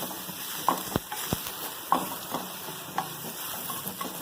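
Curry leaves and chopped green chilies sizzle in a pan of oil for an Indian snack, a steady frying hiss broken by sharp pops, spatters and a few clinks of stirring, up close with no talking.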